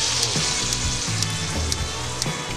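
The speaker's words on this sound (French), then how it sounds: "j'ai quelques petits champignons de Paris dedans. Je les fais revenir avec du beurre." Button mushrooms sautéing in butter with a little persillade, a steady close sizzle and crackle of frying with a faint low hum beneath.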